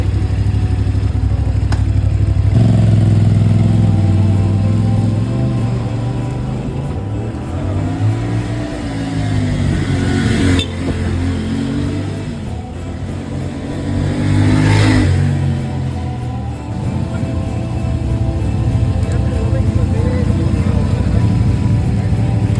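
A CFMOTO 450MT adventure motorcycle on a test ride in Pakistan, its engine droning and revving up and down through gear changes with rising and falling pitch, loud and close.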